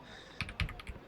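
Several quick, separate keystrokes tap on a computer keyboard, set apart by short gaps. They are close and faint, with nothing else audible.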